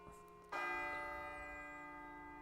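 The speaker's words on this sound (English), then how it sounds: "Hey, do you hear that? It sounds like a bell," Bell tolling in the video game Persona 3 FES: a single deep struck bell rings out with a rich set of sustained overtones that decay slowly, faint and distant in the background.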